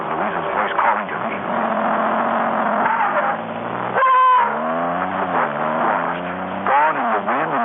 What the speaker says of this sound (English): Gone in the wind and the roar of the engine.